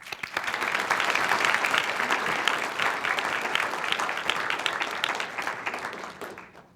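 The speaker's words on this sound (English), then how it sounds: "that deserves a round of applause" Sustained audience applause fills a hall at the Queer Newark: Our Voices, Our Histories conference in 2011, steady and even for several seconds before tapering off at the end.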